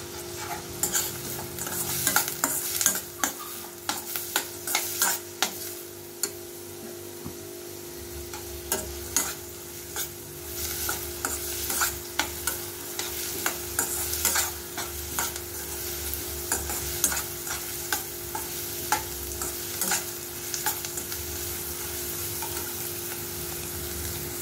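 Onions being sautéed for an anchovy fish stir-fry sizzle steadily in a pan while a spatula scrapes and stirs in irregular bursts of clatter, close and continuous with no talking.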